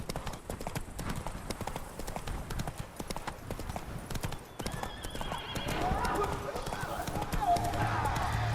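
Roach, the horse in The Witcher 3 game, gallops with rapid rhythmic hoofbeats and lets out a whinny, while a rider's voice and other game sounds come in over the pounding steps.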